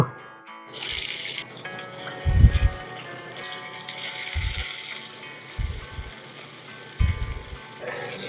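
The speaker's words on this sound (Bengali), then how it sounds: "তেল গরম হয়ে গেছে, চপ করে রাখা পেঁয়াজটা ভেজে নেব" Chopped onion frying in hot refined oil in a frying pan, a bright hiss and sizzle near at hand, broken by several dull low clunks and stirring knocks as the pieces are moved about.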